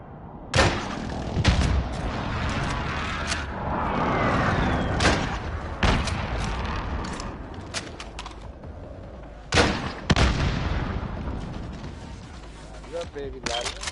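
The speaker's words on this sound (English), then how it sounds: "Enemy precision airstrike." Explosions from an enemy precision airstrike in a battle-royale shooter game, loud repeated blasts and booms arriving in bursts, mixed with gunfire and clattering mechanical noise, under occasional voice chatter.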